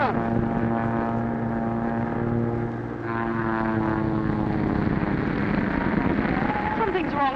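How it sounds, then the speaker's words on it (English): Propeller airplane of the 1940 era droning steadily overhead with a strong, continuous engine hum that wavers slightly midway, with talk over it. "Something's wrong with Barton's plane."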